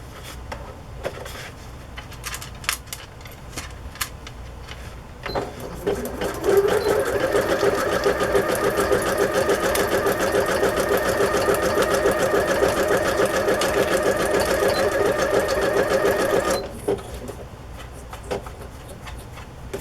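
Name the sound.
sewing machine stitching card journal pages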